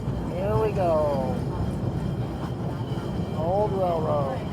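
Riding aboard an old railroad car on a heritage steam train at a threshermen's park, with a steady rolling rumble throughout and voices chatting over it.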